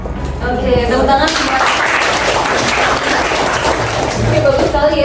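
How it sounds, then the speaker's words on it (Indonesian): Students in a classroom lesson break into a burst of clapping that starts at once, builds into dense applause, and carries on steadily for several seconds, close and loud. "Oke, tepuk tangan."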